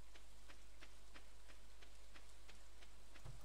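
Rain falls steadily in the farming game Stardew Valley, a soft, faint, even patter with light, regularly spaced drip ticks throughout and a small thump at the very end.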